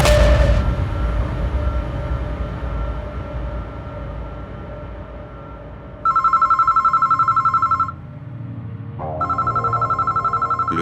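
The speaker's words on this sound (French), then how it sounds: "Le téléphone a sonné" A telephone rings at night with two loud bursts of electronic trilling separated by a short pause, following a low rumbling ambience.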